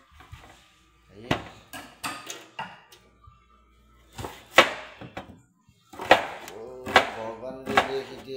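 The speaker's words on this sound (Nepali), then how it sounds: "हेर्नु त, प्याज र यो काट्न गइरहेको छु" Onions being chopped with a knife, sharp irregular thuds of the blade on a cutting board in short bursts and clusters, close and fairly quiet, with a voice speaking between some of the cuts.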